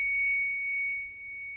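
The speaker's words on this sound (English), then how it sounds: "The bell sound is very much relaxing" A meditation bell rings with a sustained, pure metallic tone that hangs steadily and fades slowly, clear and close with no talking.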